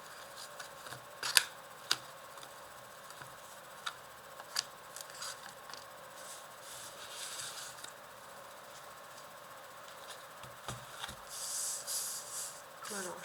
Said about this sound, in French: Alors, je place bien mes cartes.